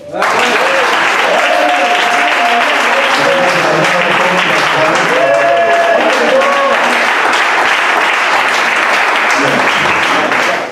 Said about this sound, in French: je voudrais qu'on acclame puissamment Jésus